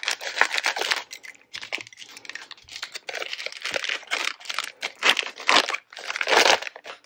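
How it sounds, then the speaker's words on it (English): Crinkly plastic packaging of Model Magic air-dry clay rustles and snips close up as scissors cut it open, with irregular crackling bursts and short pauses. "I'm going to use my scissors and open up my model magic"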